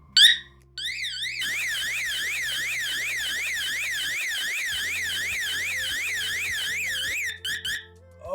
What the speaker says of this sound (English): turn on the alarm.